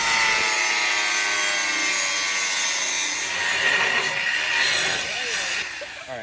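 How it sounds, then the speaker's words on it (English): Steel tubing for a tire storage rack being cut with a power saw: a loud, continuous grinding whine with a metallic ring that holds steady for several seconds, then drops off near the end. "We then began cutting the steel as needed"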